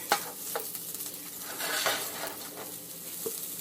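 Onions frying alongside frozen broccoli, cauliflower and Brussels sprouts in a pan, a close continuous sizzle broken by scraping stirs and a few light utensil clinks.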